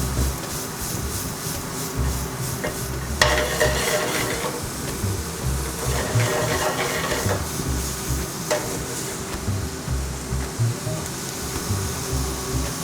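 Short rib tossed in a hot pan after a pinch of salt, a steady sizzle with scraping and stirring bursts and a few sharp clicks, close and continuous with no talk.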